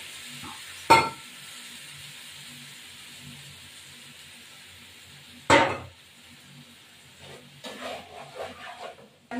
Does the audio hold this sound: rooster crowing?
no